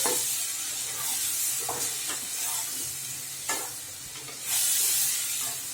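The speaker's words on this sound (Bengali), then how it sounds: "এখন আমি ডিমগুলি ভেজে দিচ্ছি" Eggs fry in a pan with a continuous bright sizzle and hiss, punctuated by several sharp stirring clicks and a surge of spatter near the end.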